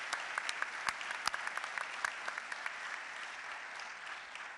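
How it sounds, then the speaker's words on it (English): An audience at a mayoral forum in Pasadena applauds, a steady wash of many hands clapping with a few sharp nearby claps, gradually thinning toward the end. "join me in giving them a round of applause for participating"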